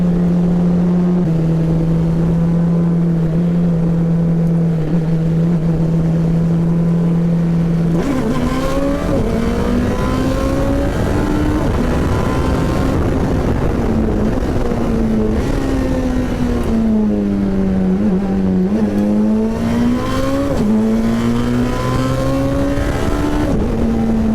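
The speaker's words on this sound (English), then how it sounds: "we're about to do like a legitimate race through turn 1" Race cars charging through the first turn in a race, a loud sustained engine roar that holds steady then rises and falls in pitch through gear changes, close and unbroken without talk.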